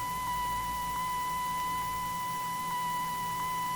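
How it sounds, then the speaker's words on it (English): Faint continuous steady tone of a 1940s-style Morse code radio range navigation signal heard in Microsoft Flight Simulator aboard a PMDG DC-6, with soft periodic beeps pulsing through a hissy background. "You hear how that's kind of continuous? But the Morse code is in there."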